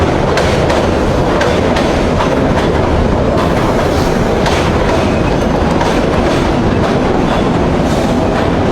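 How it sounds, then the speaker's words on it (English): A train rolls past close by in a loud, sustained rush, its wheels beating out a steady clickety-clack with rhythmic rail knocks throughout. "Wait for the train to pass."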